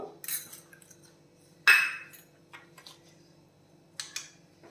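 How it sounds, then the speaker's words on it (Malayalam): Mustard seeds dropped into hot oil in a pan, a few scattered sharp clinks and crackling spits coming in separate bursts over a faint steady background hum, close and fairly quiet. "എണ്ണ ചൂടായിട്ടുണ്ട്. ഒരു 1/2 ടീസ്പൂൺ കടുക് ഇട്ട് കൊടുക്കുന്നു."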